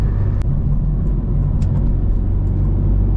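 A K24-swapped turbo Honda Civic Si running 8 psi boost pulls a third-gear roll-on during a night drive, a loud, steady engine rumble and road roar held for a few seconds with no talking.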